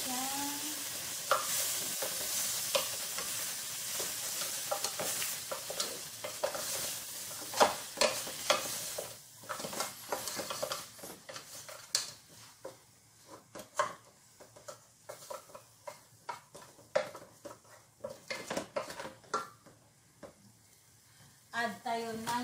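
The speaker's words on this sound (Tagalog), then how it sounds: "Saudi baharat. Mix na natin siya." Saudi baharat spice being stirred into sizzling kabsa, a steady frying hiss broken by repeated scraping stirs of the spoon in the pot, with someone talking over the cooking.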